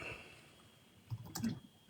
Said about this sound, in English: I hear the typing.